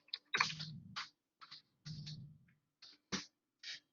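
Keys are typed on a computer keyboard into a notepad file: a few short, quiet clusters of clicks with gaps between them, close and alone.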